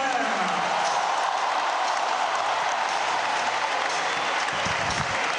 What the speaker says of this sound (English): Good applause for Federer, as you would expect